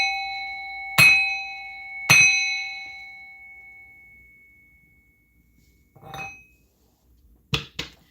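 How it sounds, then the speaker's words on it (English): A bell struck for a spiritual cleansing rings out with two bright, close strikes about a second apart, each leaving a long, fading metallic tone, followed by a few softer clinks and taps. "I'm going to bang this bell to clean, remove all negative energies"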